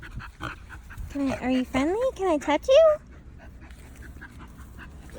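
A pig grunts and squeals in a quick run of high, wavering calls for about two seconds, close by, with a person talking softly before and after.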